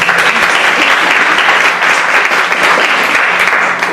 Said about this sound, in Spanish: Quiero pedirles un aplauso para Marjorie.